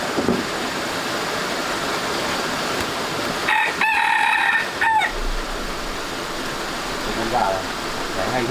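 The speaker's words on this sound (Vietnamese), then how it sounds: "Con gà này hay chứ." A rooster crows loudly and close by in a rural Vietnamese farm setting, one long call rising over steady background noise, with a few clucks and low rumbling afterward.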